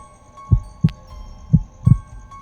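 A muffled heartbeat in an audio drama thumps four times, the soft beats falling in uneven pairs, low and dull over a faint steady hum with no voices.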